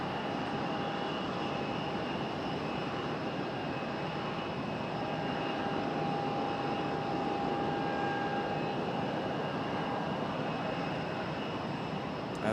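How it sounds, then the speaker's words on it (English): An American Airlines Boeing 737 arriving at Raleigh-Durham airport, heard as a steady distant engine roar with a faint whine held evenly throughout, no voices. "737 for American Airlines."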